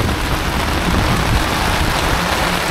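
Heavy rain pours down steadily on a tuk-tuk camper, a dense close hiss of drops drumming on a surface with no voices.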